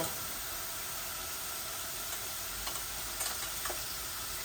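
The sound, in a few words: dried fish (shutki) frying with garlic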